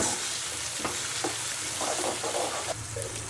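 Onions, green chili and tomato frying in a pan, giving a steady loud sizzle with a few stirring scrapes and clinks throughout.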